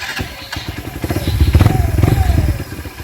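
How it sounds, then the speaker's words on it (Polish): A small Honda Varadero 125 motorcycle engine idles and revs close by, a steady pulsing putter that swells louder in the middle before settling back. "No i wam powiem, że silniczek bardzo ładnie chodzi."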